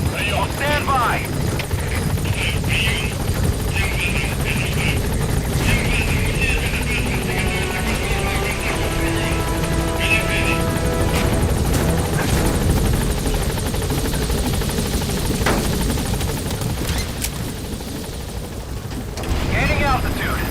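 A military helicopter landing at a landing zone in Metal Gear Solid V, loud continuous rotor thudding and engine whine close by, with radio-style voices talking over it.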